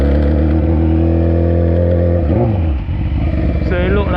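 A motorcycle engine on a Jamaican roadside revs steadily and loudly up close for about two seconds, then the pitch swoops as gas is given and the clutch comes off, followed by a rougher running sound and someone talking.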